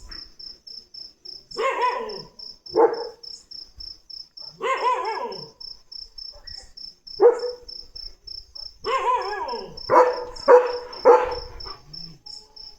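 Dogs, including a German Shepherd, bark in scattered bursts, some in quick clusters, over a constant pulsing chirp of crickets in a quiet night setting.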